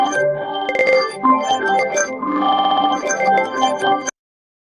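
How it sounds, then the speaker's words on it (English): A glassy, granular synth texture from the Phase Plant Molekules sources: a dense, shimmering blast of bright, bell-like tones and crystalline grains that swells and flickers for about four seconds, then stops abruptly. "a textural blast of glassy type synth"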